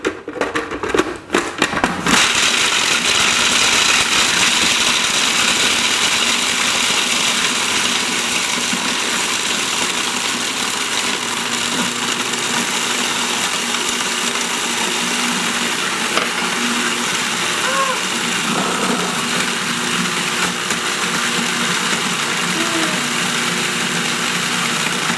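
A blender whirls pistachios, fresh lemon juice, coconut nectar and miso, giving a loud, steady whir that holds for the whole stretch after a brief rough start, with no voices.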